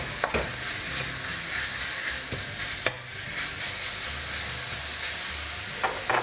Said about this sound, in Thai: ผมจะใส่ หมูบดหรือว่าหมูสับลงไปเลยนะครับ